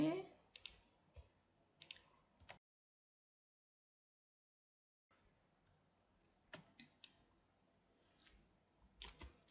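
Crisp, faint computer mouse clicks at irregular intervals during Illustrator drawing work, close and isolated, with a silent gap in the middle and quiet background between clicks.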